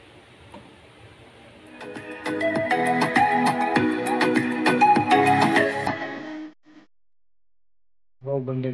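Music plays loud and clear through a Bluetooth stereo amplifier streaming from a phone, after quiet low chatter, then cuts off abruptly near the end before a short burst returns.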